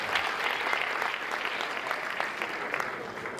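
An audience claps long and loudly, a dense and steady wash of applause from a crowd that keeps going without a break.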